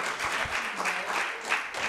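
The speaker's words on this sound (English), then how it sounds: "Somebody ought to give the Lord a hand clap of praise in here" Congregation clapping in praise during a Pentecostal church service, a dense wash of many hands that holds steady for a couple of seconds, fairly close and full.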